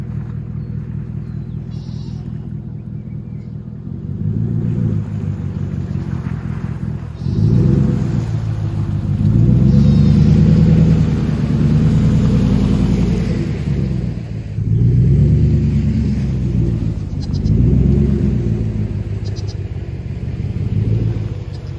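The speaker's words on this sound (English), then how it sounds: "Let's see if we can get this truck back down the hill over to this barn." A farm truck heads down a muddy hill toward a barn, its engine rumbling low and close, swelling in several surges and easing between them.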